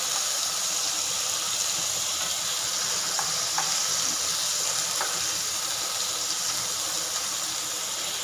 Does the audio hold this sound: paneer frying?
yes